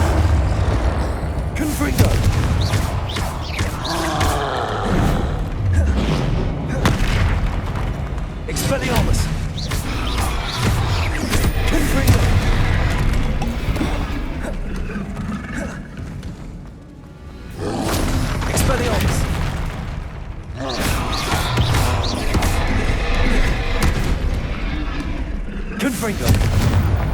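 Repeated heavy blasts and booms from the Confringo fire spell in Hogwarts Legacy, loud and dense with game music and effects, near-continuous over the whole stretch with a brief lull midway.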